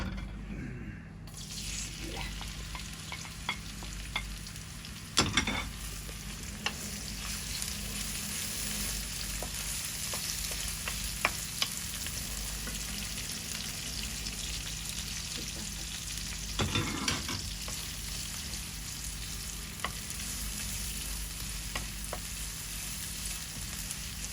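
Shrimp frying in oil with onion and garlic for a Bengali curry, a steady broad sizzle running throughout, broken by a few louder bursts of stirring or spattering near the start and around the middle.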